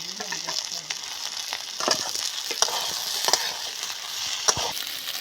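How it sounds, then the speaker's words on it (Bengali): Aubergine pieces fry with ginger-garlic paste in a pan, giving a steady, close sizzle with scattered crackles and stirring clatters throughout, no talk. "এবার বেগুনগুলো দিয়ে দেবো। ভাজা ভাজা হয়ে গেছে, আমি আদা রসুন বাটা দিয়ে দেবো।"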